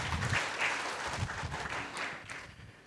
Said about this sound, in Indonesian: Yang paham berikan tepuk tangan meriah buat Tuhan kita.